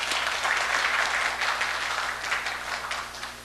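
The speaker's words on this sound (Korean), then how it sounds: "우리 응원의 박수 한번." A church congregation breaks into encouraging applause, a dense, continuous roar of many hands clapping together at an even level throughout, with a low steady hum underneath.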